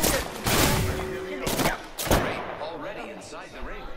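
Bursts of gunfire from the video game Apex Legends crackle in heavy, overlapping volleys, with loud sharp shots up front and a player's voice talking over the chaotic firefight.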